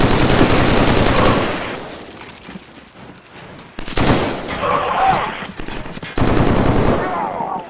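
Machine gun fire during a 3 vs 3 online clan match in a shooter game: loud, rapid automatic bursts come in three separate stretches, with quieter gaps between them.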